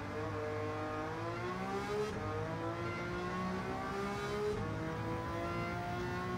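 A Ferrari 330 P4 race car's engine in Gran Turismo 7 at Sardegna Road A, revving steadily with rising and falling pitch through gear changes, loud and continuous with no talk.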